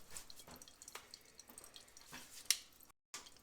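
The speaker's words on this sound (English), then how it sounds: "I'm going to let that drain down until it stops dripping" Fuel drips from a Honda Rincon ATV carburetor float bowl into a mason jar, with faint, irregular drops tapping close by in a quiet space.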